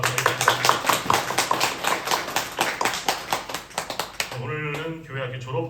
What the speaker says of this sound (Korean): 한번 박수 다시 한번 박수